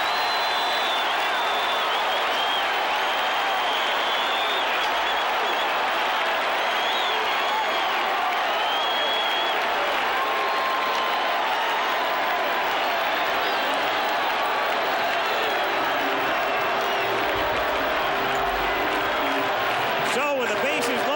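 At a 1985 World Series game between the Cardinals and Royals, a packed stadium crowd roars and applauds in a steady, sustained wash. A commentator talks over the noise the whole time.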